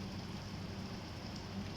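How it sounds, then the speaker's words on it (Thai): Rain falling steadily outdoors, a constant even hiss of drops with no breaks and no voices. "ผมล่าเกลียดเวลาฝนตกจริง ๆ เลยครับ"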